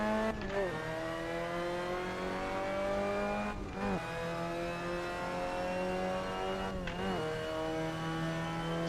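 Mazda MX5 engine in the Assetto Corsa racing game on the LA Canyons mod, revving up with a steadily rising pitch through three quick gear changes, loud and continuous with no talking.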